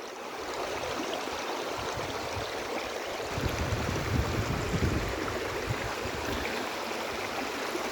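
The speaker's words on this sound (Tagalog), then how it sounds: "Yan, yung ilog namin." A shallow river rushes and babbles steadily, a close, continuous flow with a brief swell in the middle.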